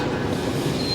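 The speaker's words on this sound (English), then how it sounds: "There's one of the SkyTrains." SkyTrain rolling past at the Vancouver airport station, a steady low rumble of the train with a faint high whine, continuous and fairly near, no talking.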